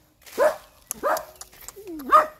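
A dog at a house in the countryside gives three loud, close barks spaced evenly apart, the last rising into a whine-like yip.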